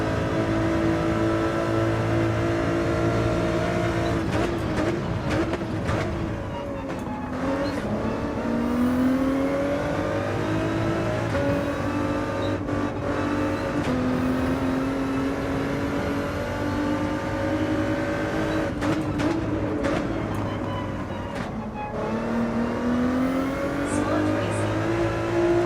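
Race car engines in Gran Turismo 7, including a Porsche chasing a Jaguar in a daily race, whine and rise and fall in pitch through gear changes, continuous and loud, with someone talking over them.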